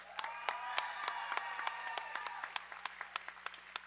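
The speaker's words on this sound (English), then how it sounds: "put your hands together for all of our volunteers who make this possible" An audience at a junior roller derby bout claps for the volunteers, a dense burst of many hands with distinct sharp claps standing out, fairly faint and steady throughout.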